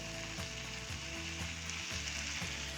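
Garlic sizzles steadily in a pan beside artichoke hearts, a constant bright frying hiss with a few soft clacks of stirring and a low hum underneath, no one talking.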